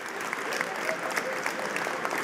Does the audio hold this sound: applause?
yes